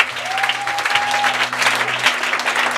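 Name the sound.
congregation applauding in church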